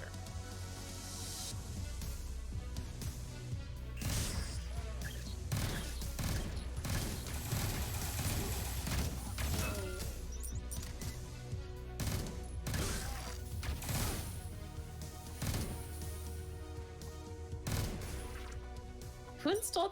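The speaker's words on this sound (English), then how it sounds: "Who installed these security turrets that just fire in every direction?" Security turrets firing in the video game Neon Chrome, a dense ongoing clatter of shots and impacts heard mid-level throughout, with talk over it.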